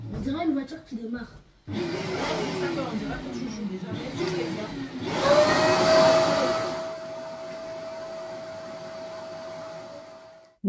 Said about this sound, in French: Super aspirateur. Et dans l'action.